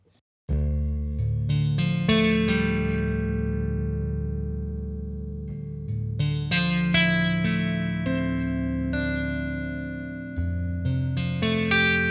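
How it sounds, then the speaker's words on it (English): An electric guitar with slight overdrive plays sustained chords and picked notes, warm and gently distorted, continuous for several seconds with no voices. "it's just like this just nice, natural, slightly overdrived sound"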